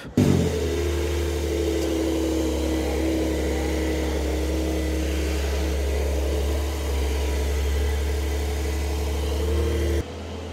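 A Lamborghini Huracan Sterrato supercar engine fires up with a sharp burst, then settles into a loud, steady, deep rumbling idle that holds for about ten seconds before cutting off abruptly.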